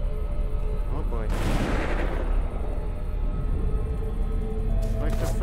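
Gunfire in the zombie survival game Dead Age, with a heavy burst of loud blasts that swells and fades over a constant background din.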